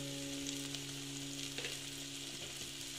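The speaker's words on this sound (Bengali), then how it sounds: "এটাকে আবার আমি ভালো মতো এই যে ভেজে নিচ্ছি" Coriander and chili powder fry in hot oil for a Bengali jackfruit kalia curry, giving a steady, close sizzle that holds without a break and has no talk over it.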